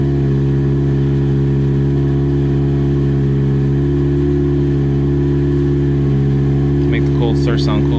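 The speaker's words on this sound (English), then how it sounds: "Obviously the idle's high because it's a cold start." A 2006 Toyota Corolla XRS engine idles high on a cold morning start, a steady close-up hum running the whole time, with a brief burst of higher, sharper noise near the end.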